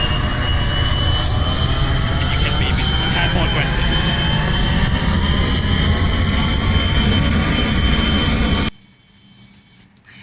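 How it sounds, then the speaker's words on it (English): Me262 twin jet engines roar at takeoff power in the BeamNG game, a loud steady whine with rising tones, a voice talking over it, before the sound cuts off abruptly near the end. "Increasing the power. Okay, the engines are stabilizing."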